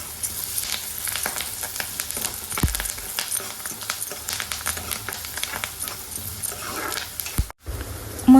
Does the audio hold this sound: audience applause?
no